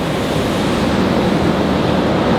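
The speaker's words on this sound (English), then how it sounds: "It is definitely raining." Heavy rain pouring down outdoors in a full shower, a dense, steady broadband hiss that stays constant and loud throughout with no breaks.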